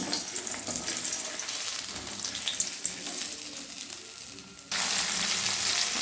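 Boiled potato pieces frying in oil for a fish curry, a continuous close sizzle that jumps louder and brighter near the end, with faint stirring noises and no talk.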